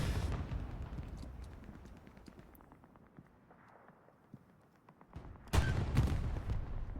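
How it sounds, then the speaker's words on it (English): Tank rounds firing in a Stalingrad battle in Hell Let Loose, heavy booms and crackling gunfire, loud at first, fading, then a sharp close blast followed by a renewed barrage. "Tank rounds coming across."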